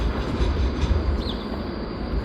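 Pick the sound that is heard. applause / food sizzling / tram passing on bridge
tram passing on bridge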